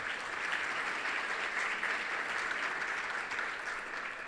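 An audience applauds the fire department pipe and drum corps and the police honor guard at a State of the City event, a sustained, even wash of many hands clapping, moderately distant and fairly soft.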